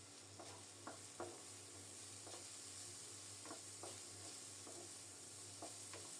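Red lentils and chopped onion fry in a pan while being stirred, with a faint, steady sizzle broken by a string of soft spoon scrapes and taps at irregular intervals, quiet and without speech.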